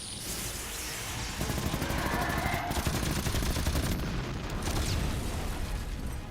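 Rapid movie gunfire from a live fire exercise scene in the film Jurassic Thunder, dense overlapping bursts of shots running continuously and loud throughout, with faint voices mixed underneath.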